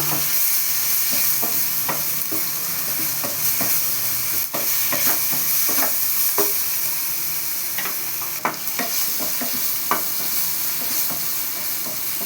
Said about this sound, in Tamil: சாம்பார் வெங்காயம் போட்டுக்கலாம் அரைச்சி நல்லா வதக்கிடலாம்